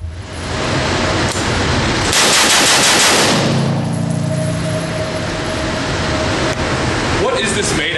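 A Faxon ARAK-21 rifle fires in dense, rapid strings that blur into a loud continuous roar at an outdoor range, with people talking over it.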